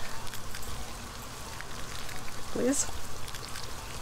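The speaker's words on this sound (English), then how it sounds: "Oh, I guess it's raining, it's not gonna burn." Steady video game rainfall patters continuously in the background, a soft hissing wash, while a voice briefly speaks over it, in the game Little Inferno.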